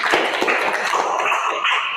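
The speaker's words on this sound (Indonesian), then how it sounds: "mari kita beri tepuk tangan untuk teman kita" A class of students gives a classmate a round of applause, dense continuous clapping from many hands, loud and close.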